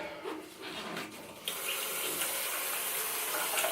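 Tap water running steadily over developed C-41 color film on a reel, rinsing it at home; a soft trickle for the first second and a half, then a louder, continuous close gush with no talk.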